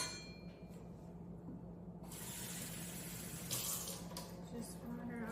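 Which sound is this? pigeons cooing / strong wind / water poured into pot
water poured into pot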